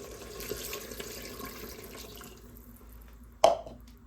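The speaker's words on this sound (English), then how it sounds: "Then I'm going to add in 300 ml of water." Water is poured into a pressure cooker holding chicken biryani ingredients, a soft steady trickle and splash that fades out, followed by a single sharp clink near the end.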